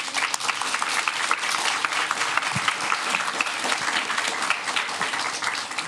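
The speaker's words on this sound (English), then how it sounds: "Please give them a good round of applause" Audience at a scholarship awards ceremony clapping in a steady, even round of applause, dense and moderately close throughout.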